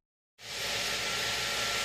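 A computer fan's steady broadband whoosh starts abruptly after a short silence and holds constant, fairly loud and alone.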